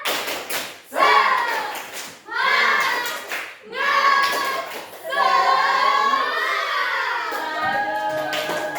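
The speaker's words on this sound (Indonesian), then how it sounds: "Lebih keras lagi. Tepuk semangat." Students in a classroom repeat a spirit clap more loudly, several rhythmic rounds of clapping and thumping punctuated by children's chanting voices, close and energetic.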